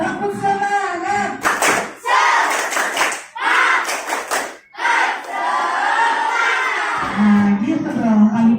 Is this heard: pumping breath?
no